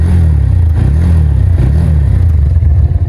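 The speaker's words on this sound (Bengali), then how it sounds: "ফার্স্টে ইঞ্জিনের সাউন্ডটা আপনাদের শোনাই।" A Honda Hornet 160R motorcycle engine idles close up, a loud steady low rumble with an even throb and no voices.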